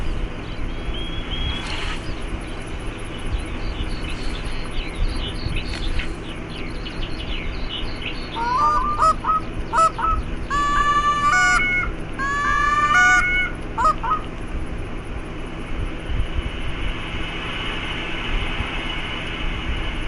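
Geese honking in the hunting video game The Hunter: Call of the Wild, bursts of several honks clustered midway over a steady outdoor bed of insect chirps and low rumble, no talk.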